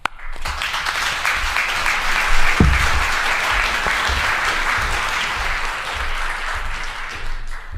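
Audience applause for a panel at the close of a housing policy session, a steady wash of many hands clapping that holds fairly loud for about eight seconds with no talk over it.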